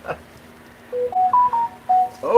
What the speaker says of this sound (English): Oh my phone beeped.